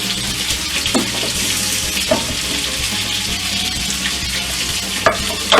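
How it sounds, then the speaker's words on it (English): Water streams from a kitchen tap over a cutting board being washed, a steady close rush with a few clunks of the board against the sink. "let me wash off my cutting board"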